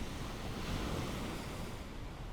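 Steady, soft roar of ocean surf, a continuous broadband wash of waves with no voices, faint and even throughout.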